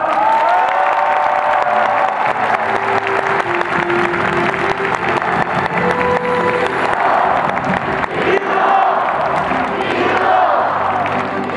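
Big stadium crowd at Daegu FC striker Lee Keun-ho's retirement ceremony applauds and cheers in a loud, continuous roar of clapping and shouts, with a voice carrying over the din.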